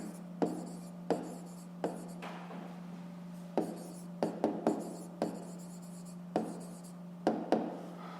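Pen strokes on paper while a math solution is written out for a fifth-grade exercise, a series of short, quiet scratching taps in an irregular rhythm, close by, over a steady low hum, with no talk.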